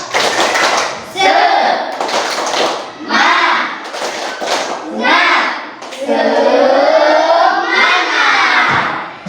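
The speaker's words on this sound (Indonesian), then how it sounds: "Beri tepuk tangan semuanya. Jadi, ya, silakan. Tepuk semangat." A school class performs a rhythmic spirit clap, loud patterned bursts of clapping and thumping with chanted voices in several short phrases and a longer final burst.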